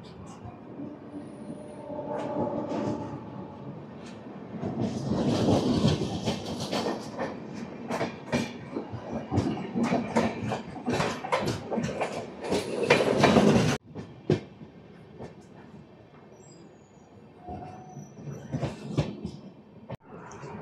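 AP Express train 20805 running past Anakapalli, with continuous rolling clatter, rhythmic wheel clicks over rail joints and a loud rush that drops sharply partway through, then quieter running with further clacks.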